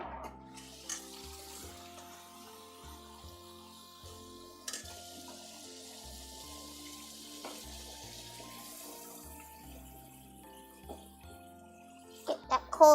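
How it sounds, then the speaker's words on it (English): Faint cold tap water running into a bowl during Thai food prep, a soft, steady trickle under occasional clinks and handling knocks, with a few louder bumps toward the end. "Get that cold water in."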